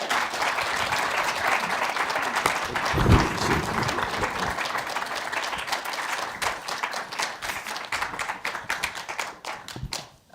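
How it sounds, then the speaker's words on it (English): A crowd at a Harvard University ceremony claps to welcome a speaker. The applause is brisk and sustained, swells near the start, then grows patchier as individual claps trail off toward the end. "Let's give a round of applause for Mr. Reginald Moore."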